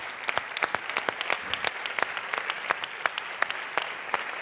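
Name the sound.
audience applause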